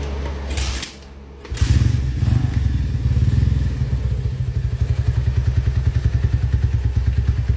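A Honda Tiger motorcycle engine with a 100 oversize piston and a very tight fit idles loudly and close by, with a steady, rapid chugging pulse after a brief dip and a few knocks near the start.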